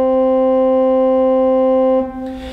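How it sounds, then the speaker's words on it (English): Pipe organ with the 8-foot open diapason stop drawn, playing middle C: a single steady, full-bodied sustained tone held evenly for about two seconds, then released into a short room decay. "And if I draw the 8-foot open diapason on the grate and play that C"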